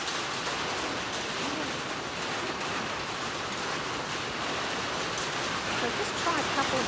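Loud rain falls outdoors during a horse-riding lesson, a steady, dense hiss that fills the whole stretch without letup.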